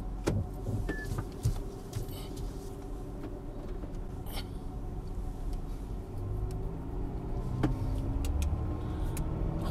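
Steady road noise from inside a car driving on a snowy morning in Montana, a continuous low rumble with faint squeaks and clicks from the cabin and occasional brake squeal, no voices.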